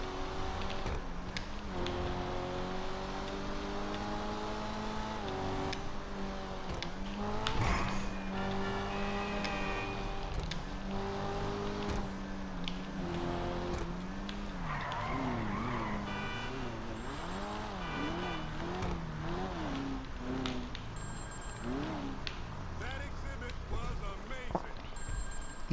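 An Annis 300R sports car is driven in GTA Online, its engine note rising and falling with gear changes over a steady background, along with brief tire squeals and passing whooshes.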